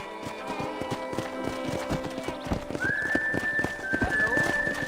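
Horse hooves galloping in Red Dead Redemption, a steady rapid clip-clop under in-game music, with a rising tone entering partway through and an occasional faint whinny.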